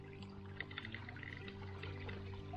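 A small bush creek in Woolshed Valley trickles and gurgles quietly, with soft bubbling and dripping over a faint low steady background.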